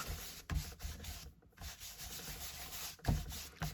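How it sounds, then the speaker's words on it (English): Rubber stamp scrubbed back and forth on a stamp cleaner, a close, continuous dry rubbing with rhythmic strokes and brief pauses between passes, no talking. "I use my stamp cleaner. Give it a really good rub, and then a bit of a dry, and then another rub"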